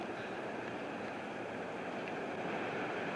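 Strong wind on a blustery day in Colorado Springs roars steadily past the microphone outdoors, a continuous loud rushing with no voices.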